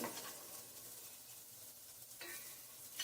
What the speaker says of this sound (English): at this point, you're going to stir in just a pinch of cinnamon, about a teaspoon of turmeric, about 3/4 of a teaspoon of salt